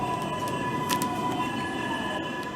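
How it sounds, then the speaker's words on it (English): An NYC subway 6 local train runs steadily in the OpenBVE simulator, with a continuous rumbling hum of wheels and motors, a steady tonal whine and a brief squeal, heard alone. "bound 6 local train. The next stop is Longwood Avenue."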